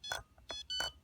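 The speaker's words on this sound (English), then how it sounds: "that beep, the loud beep, that's the center of the trim." Three short electronic beeps from a Flysky FS-i6S radio transmitter as the trim returns to center, the first and last louder and longer, the middle one brief, sounding clear and close in a quiet room.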